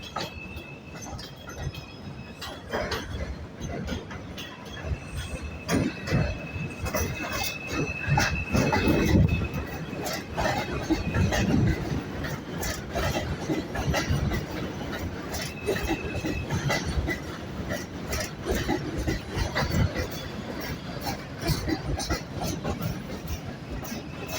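A New York subway 5 train rolls along the track near Wakefield, 241st Street, with a loud continuous rumble, wheel clatter and high squealing for the whole stretch, and voices can be heard beneath the noise.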